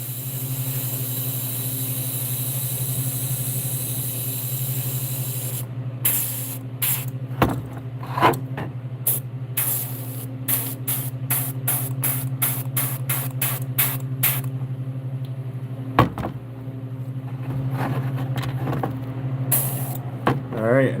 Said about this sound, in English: Gonna spray down the middle.